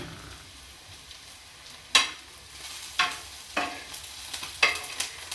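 Onion and masala sizzle and fry in oil on a tawa, with several sharp stirring scrapes and crackles breaking over a low steady sizzle.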